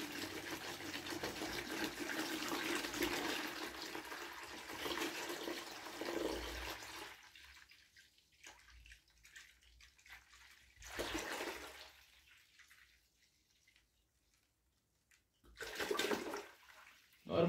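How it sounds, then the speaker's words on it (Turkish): Water gushes from a container onto a pile of salt while mixing a saltwater aquarium batch: a loud, steady pour that stops, followed by a couple of shorter splashing pours with quiet gaps between them. "Tuzun üstüne boşaltıyorum suyu."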